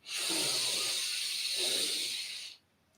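One long, deep inhalation during a guided breathing exercise, a steady airy hiss lasting over two seconds before stopping abruptly, close and alone.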